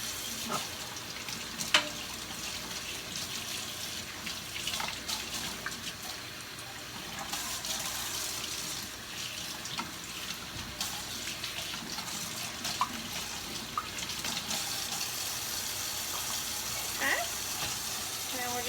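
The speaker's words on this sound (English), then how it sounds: "Get the water nice and hot again." Hot water running from a sink tap into a jar while cross-stitch fabric is dyed, a steady broad hiss and splash lasting throughout, with small clinks here and there.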